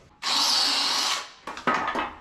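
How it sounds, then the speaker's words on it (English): A power drill countersinks a hole during a Chevy C10 manual-swap clutch pedal install, first a loud whirring spin of about one second, then several short, sharp bursts of drilling. "Countersink it a little bit."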